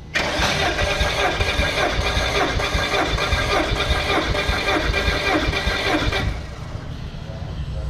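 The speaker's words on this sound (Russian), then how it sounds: "Имеется видеообзор работающего двигателя. Запуск двигателя." A Citroen C-Elysee car engine from around 2012 starting up and running, a loud continuous mechanical rumble and clatter close by that steadies and drops slightly in level near the end.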